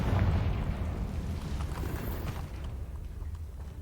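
A loud Confringo fire spell blast in Hogwarts Legacy, a rumbling, booming burst that starts strongest and slowly tails off with crackling debris, with no speech.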